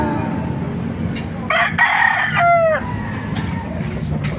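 A seven-month-old rooster among a group of fine fowl at a poultry spot in Baliuag, Bulacan crows once in the middle, a clear, moderately loud call over steady background noise and farmyard clucking.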